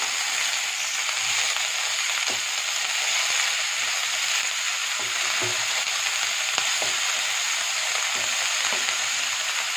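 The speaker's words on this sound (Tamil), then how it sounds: "இதை நல்லா மிக்ஸ் பண்ணி விட்டு ஒரு ரெண்டு நிமிஷத்துக்கு நம்ம இதை வேக விடலாம்" Shredded cabbage frying in a pan for an Andhra-style cabbage fry, a loud continuous close sizzle with occasional soft stirring clicks and scrapes throughout.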